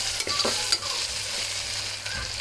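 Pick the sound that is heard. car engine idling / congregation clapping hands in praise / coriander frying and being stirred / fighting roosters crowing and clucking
coriander frying and being stirred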